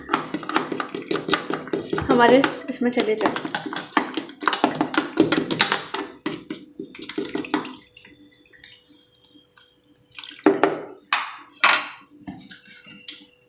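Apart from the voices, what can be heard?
water poured into leftover kinnow orange pulp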